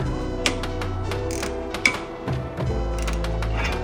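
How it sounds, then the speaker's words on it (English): Two 13 mm bolts being removed from a Smart car brake, close rapid ratchet clicks and metallic ticks with short pauses, then a steadier mechanical whir, no voices. "Next thing you're gonna do is you're gonna go ahead and remove these two bolts right here"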